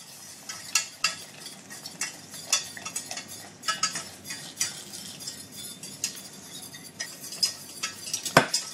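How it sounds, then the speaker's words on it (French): A spoon stirs broth in a pot on the stove to avoid lumps, repeated metallic scraping and clinking strokes in an irregular rhythm, close and fairly quiet with no talking. "Et je remue pour éviter les grumeaux."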